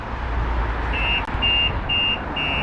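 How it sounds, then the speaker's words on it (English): A Starline S9 alarm on a 2010 Mitsubishi Lancer EVO X sounds in a loud, steady pattern of repeated high electronic beeps, four evenly spaced tones over a constant background rumble. "you can see the alarm goes off. You can hear it very loud."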